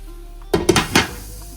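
A lid is set onto a cooking pan of rice and lentils, giving a quick cluster of three or four metallic clinks and rattles, close and fairly loud, then quiet.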